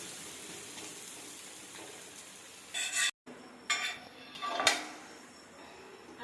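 A fried flatbread, a crisp appam-style piece cooking in a little oil, is flipped over in a pan with a few short clattering scrapes and a brief sizzle. Faint frying hiss runs underneath.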